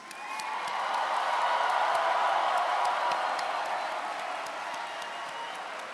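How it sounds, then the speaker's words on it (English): Sustained applause for graduates at a university spring commencement ceremony, a broad wash of many hands clapping with scattered cheers, swelling then slowly easing, distant and filling a large hall. "Family members, let's give the graduates one more round of applause"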